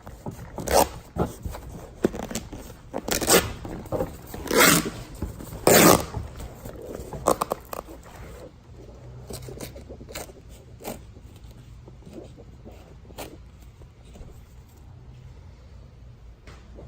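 A knife cuts through bar stool cover material in a series of close, sharp scraping and ripping strokes, loudest early on, followed by quieter, sparser rustles and scrapes.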